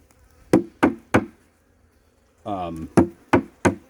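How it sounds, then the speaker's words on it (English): Three sharp wooden bangs in quick succession as a beehive cover is knocked to shake bees off, a brief buzzing hum of bees, then three more loud knocks, close and distinct. "I had to bang the bees off"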